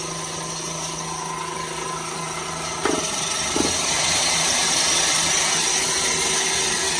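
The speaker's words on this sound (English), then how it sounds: "then press and hold, and then the blade will start rotating. At this time we can apply some grinding sand." A machine blade spinning while grinding with grinding sand, a steady loud motor drone with a couple of brief knocks partway through as the pitch and level rise slightly.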